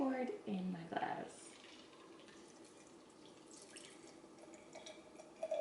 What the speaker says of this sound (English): And then I'm going to pour it in my glass.